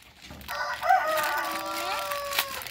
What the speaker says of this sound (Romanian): Cântă cocoșii